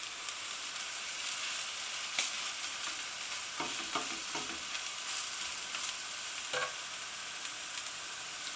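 Chickpea flour pancakes with onion and red pepper fry steadily in a pan, a continuous broadband sizzle with a few brief scraping and stirring taps partway through, alone and without talk.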